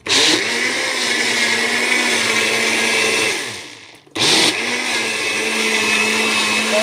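A blender whips oil into homemade butter, its motor roaring loud and steady, briefly cutting out for a moment before starting up again at full strength.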